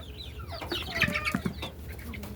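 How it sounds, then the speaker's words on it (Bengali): Desi chickens clucking while feeding, soft scattered clucks and short calls at moderate distance over a quiet outdoor background. "দেশি মুরগিগুলো।"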